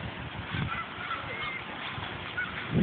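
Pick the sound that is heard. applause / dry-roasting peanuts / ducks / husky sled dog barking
ducks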